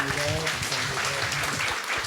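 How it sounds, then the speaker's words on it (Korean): Audience at a church creation-science seminar giving a round of applause, a dense, steady wash of clapping filling the hall, with a voice speaking over it. "다시 한번 감사의 박수 드리겠습니다"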